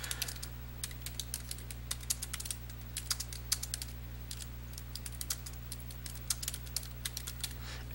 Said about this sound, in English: So I'm just going to type in something as an example here.